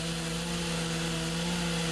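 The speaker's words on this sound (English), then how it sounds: "chainsaws can be heard carving away in downtown Marion as artists spend hours creating sculptures out of" Chainsaws carve wood sculptures from derecho storm debris in a downtown street, making a continuous droning motor buzz that holds steady and fairly loud throughout with no pauses.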